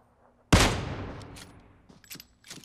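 Gunfire in a shooter video game: one sharp, loud burst hits hard and rings out over a second, followed by a few fainter scattered shots.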